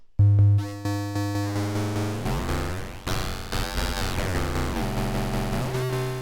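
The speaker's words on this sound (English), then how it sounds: "It also has a cool frequency modulation, which sounds like this." A bright Arturia MiniBrute 2S analog synthesizer tone with a wobbling, warbling pitch from frequency modulation driven by VCO2, sustained and loud throughout with shifting metallic overtones.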